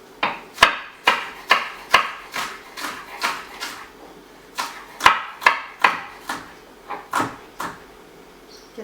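A knife chops green onions on a cutting board in quick, regular knocks, about a dozen sharp wooden thuds coming in two bursts with a short pause between, close and fairly loud with no talking.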